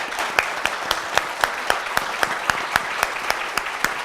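Audience applause for a panel discussion at an information management conclave, a steady patter of many hands with sharp regular claps standing out, sustained and fairly close.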